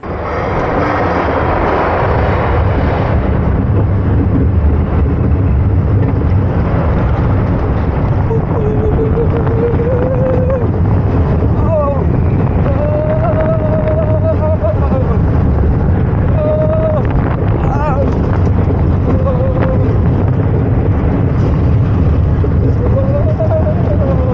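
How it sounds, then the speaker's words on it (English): Riding the Canyon Blaster, a 1993 looping steel roller coaster 94 feet tall going 41 mph and inverting four times: a loud, continuous roar of wind and rumbling track throughout, with faint screams rising over it. "I just got off my ride of Canyon Blaster, and it's not the tallest or the fastest roller coaster"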